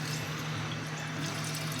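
Fuel drains in a steady, continuous gush from the fitting of a fuel sending unit on a Ford Fairmont, close up and fairly loud, pouring without a break.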